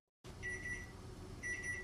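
An oven timer signaling that baked snow bread is done, two sets of short repeated electronic beeps roughly a second apart, clear and close in a quiet kitchen.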